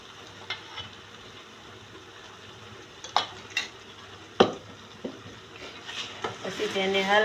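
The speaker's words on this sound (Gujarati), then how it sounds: "પછી તેને હલાવી લઈશું મિક્સ કરી" A spoon stirs onions and crushed gravy frying in a pan for a green pea curry, with soft sizzling under several sharp utensil scrapes and clinks against the pan, growing busier toward the end.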